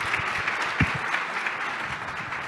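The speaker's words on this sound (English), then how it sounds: "big round of applause for our panel" Applause from an audience, a steady wash of clapping with a few louder claps standing out, fairly close, no voices.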